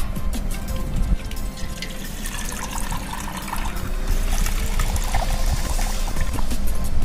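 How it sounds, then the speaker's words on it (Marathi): Cooking water poured off pressure-cooked chana dal (split Bengal gram), a steady close pour and trickle with dripping into a vessel, continuous for several seconds with no talk. "आपण आता ह्यातले पाणी काढून घेऊ"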